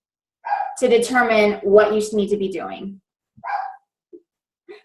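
A dog barks a few times close by in the first seconds, its sharp yaps tangled with a person speaking over them, followed by a couple of fainter short bits after the talk stops.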